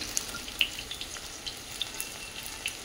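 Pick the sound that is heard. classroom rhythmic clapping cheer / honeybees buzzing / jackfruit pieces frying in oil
jackfruit pieces frying in oil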